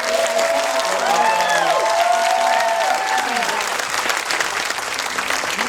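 A Texas festival crowd at a celebrity Q&A breaks into loud, sustained applause mixed with cheering and whoops, a thick wash of clapping that holds steady throughout, with a few brief voices rising over it early on.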